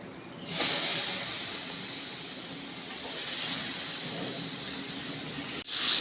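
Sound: adding washed val beans, brinjal and potato to hot masala

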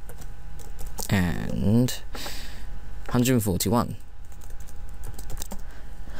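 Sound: typing on a computer keyboard

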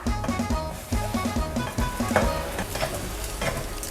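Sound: eggs stir-frying with fried garlic in pan

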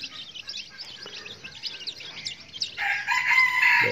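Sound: jungle fowl crowing

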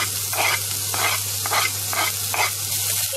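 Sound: onion and sliced cold cuts frying in hot ghee

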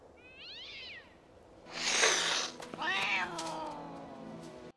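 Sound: cat meowing in a film

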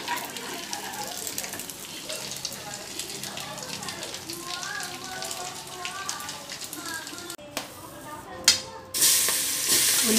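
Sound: frying and stirring food in a pan until browned

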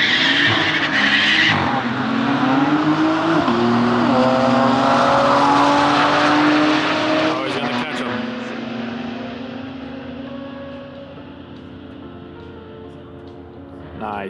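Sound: car doing a fourth gear burnout, tires squealing

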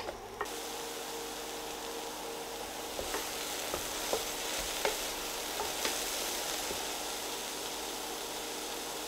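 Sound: aubergines frying in oil in a pan

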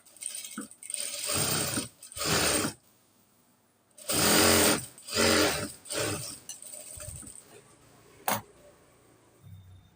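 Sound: sewing machine stitching a pant seam

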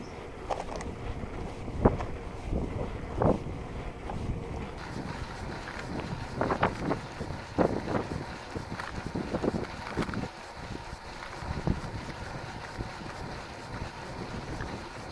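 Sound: boat picking up speed on the water

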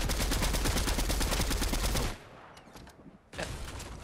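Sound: gunshots in the video game Fortnite

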